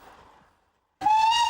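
A steam train whistle sounds suddenly after a short silence, a sharp steady hissing tone that holds at full strength for about half a second, preceded by faint fading noise.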